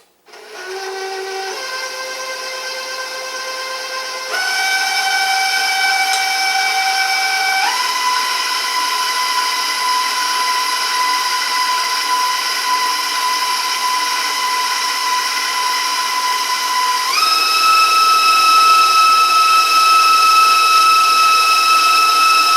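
An electric mixer beats molasses cookie batter with a steady motor whine that steps up in pitch as the speed is raised, running loudly and alone throughout.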